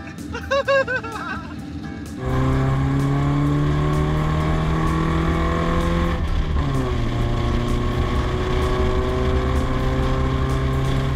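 A Datsun car engine on a road trip revs hard and holds a loud, steady drone, its pitch shifting as it climbs and changes gear, with laughter heard briefly before the engine takes over.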